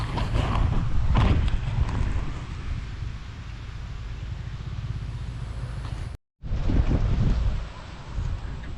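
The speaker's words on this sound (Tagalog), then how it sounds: "lakas po ng hangin ngayon dito sa amin" Strong gusty wind buffets the microphone with a heavy, roaring rumble that surges and eases, briefly cut off before resuming.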